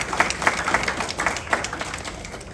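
A small crowd claps for Dr. Rashid Popo at a political launch event, brief scattered applause at close range.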